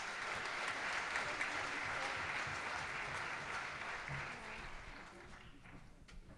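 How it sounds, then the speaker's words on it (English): Applause for a young middle school jazz band at a school jazz night, a broad sustained clapping from the crowd that slowly tapers off toward the end. "another big round of applause for our first jazz ensemble tonight,"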